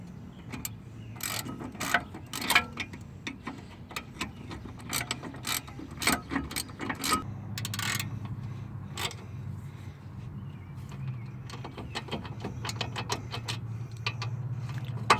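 A 15mm ratchet wrench tightening brake joints on a 2001 Mustang, giving close, rapid clicking bursts in uneven runs over a low background hum.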